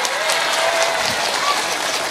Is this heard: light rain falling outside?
no